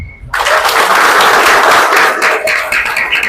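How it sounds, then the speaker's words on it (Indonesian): Audience applause at an Indonesian political campaign gathering, a dense burst of many hands clapping that swells in abruptly after a brief silence and holds steady and loud throughout. "Tepuk tangan."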